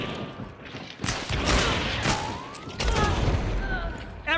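Loud, dense gunfire in a chaotic video game firefight, with shotguns in play: repeated heavy blasts and booms packed close together across the whole stretch, with some voice sounds mixed in.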